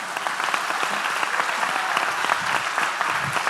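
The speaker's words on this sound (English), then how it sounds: "Please, a big applause to all of them." Steady applause from a conference audience fills the room, dense and continuous at full loudness for the whole stretch, with no voices over it.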